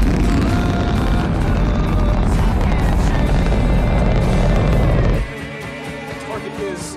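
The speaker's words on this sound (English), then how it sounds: "cannons firing." A dense, loud roar of heavy cannon fire rumbles continuously, then suddenly drops away, leaving quieter scattered noise.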